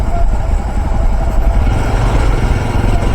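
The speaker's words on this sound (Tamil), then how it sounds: "வரும் இப்போ நிறைய வண்டிகள் போயிட்டுருக்கு" Engines of many vehicles pass steadily on a busy road on the route from Kedarnath to Rishikesh, a continuous loud rumble with no pauses.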